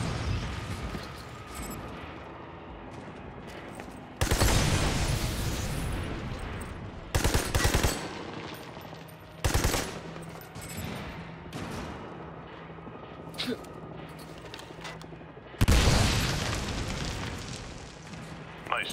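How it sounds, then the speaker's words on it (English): A frag grenade explosion and gunfire in Army of Two: several loud, abrupt bursts of blasts and rattling shots separated by quieter stretches, heavy and close. "Tossing a frag."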